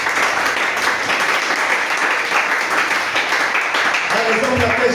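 A congregation at a church service applauds the Lord with dense, sustained clapping and cheering. It stays loud and steady throughout, and a voice speaks over the end.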